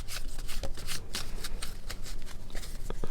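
A deck of tarot cards is shuffled by hand, giving close, crisp riffling and flapping in quick repeated bursts.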